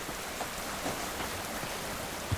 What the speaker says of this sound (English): normally a rainstorm like this would get me wet